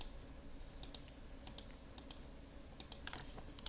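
Computer keyboard keys are pressed in short, quiet clusters of clicks and taps at an office desk, with a soft room hum underneath and no talking.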